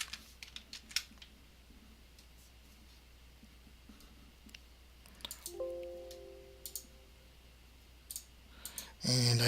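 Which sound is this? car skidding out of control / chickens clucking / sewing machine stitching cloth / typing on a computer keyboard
typing on a computer keyboard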